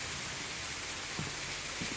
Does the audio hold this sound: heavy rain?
yes